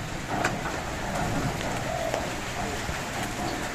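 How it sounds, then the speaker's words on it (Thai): Steady rain falls outdoors in a soft, continuous patter with scattered drop ticks, heard from nearby at moderate level and without voices. "ฝนก็ตกกันตอนเนี้ย"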